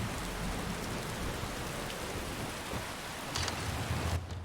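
Steady rain in Skyrim hisses continuously, a soft, even wash of noise with a faint low rumble, and no voices.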